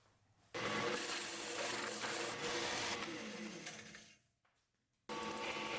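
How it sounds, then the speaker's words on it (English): A drill press bores a 3/8 inch hole into a rock, a steady grinding whir that runs for several seconds, fades and stops briefly, then starts again, close and fairly quiet with no talking. "Using a drill press, I am boring a 3/8 inch hole in the rock."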